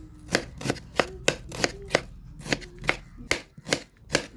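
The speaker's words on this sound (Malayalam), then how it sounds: "അതിനുശേഷം നമുക്ക് ഉള്ളി മുറിക്കുക." A knife chops onions for egg biryani in a steady series of about a dozen crisp, close knocks against the cutting board.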